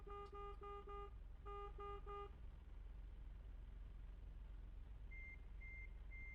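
Electronic reversing beeps from a car in a video game sound in regular two-tone bursts over a low engine hum, then give way to fainter, higher single beeps, with no speech.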